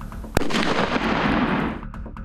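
A firecracker held in a hard plastic mannequin's hand goes off in a safety demonstration: one sharp close bang followed by a loud, roaring burst of crackling that lasts over a second before trailing off.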